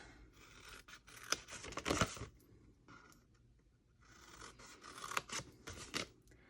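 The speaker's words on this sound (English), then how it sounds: "we're going to cut those score lines like that" Scissors snipping score lines on kraft paper card stock, two close bursts of crisp blade cuts and paper rustle separated by a quiet pause, soft overall and without talk.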